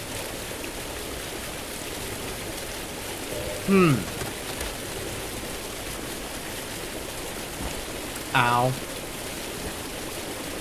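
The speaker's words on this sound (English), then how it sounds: "Waterfalls are very loud." A waterfall in the video game Vigil pours as a steady, loud rushing roar throughout, broken twice by a brief vocal exclamation.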